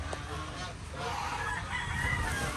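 Chickens cluck and a rooster sounds on a farm among geese and ducks, faint fowl calls under a busy outdoor background with some talking.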